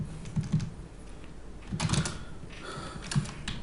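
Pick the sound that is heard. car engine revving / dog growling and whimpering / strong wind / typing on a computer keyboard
typing on a computer keyboard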